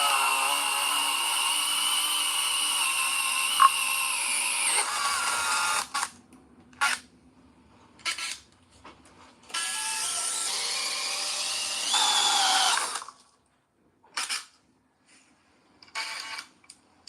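A power drill bores into concrete in a series of bursts, a long harsh run followed by shorter grinding spurts separated by silent pauses, loud and close.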